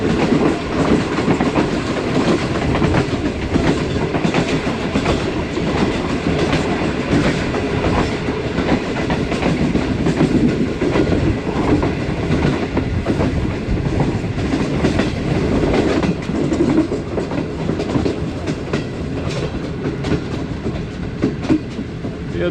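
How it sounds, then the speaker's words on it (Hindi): The new-rake Awam Express passenger train, running in Pakistan toward Attock City Junction, gives a loud, steady interior rumble with continuous rhythmic clickety-clack of wheels over rail joints, with no talking. "दोस्तों अटक सिटी जंक्शन पे हमारी ट्रेन पहुंच रही है"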